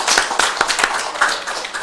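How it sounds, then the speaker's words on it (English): A small group claps for a girl holding up a poster at a mayor's COVID-19 update, a short burst of distinct, fairly close hand claps. "Let's give her another round of applause."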